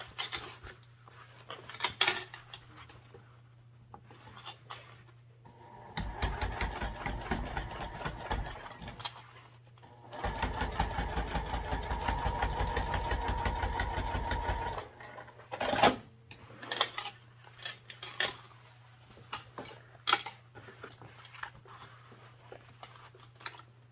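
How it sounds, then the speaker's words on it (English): A sewing machine top stitches through a bag's bottom gusset and seam, running in two long, steady mechanical bursts between short stops and start-stop clatter, with no talking. "Top stitch, we'll go through the bottom gusset and the seam there."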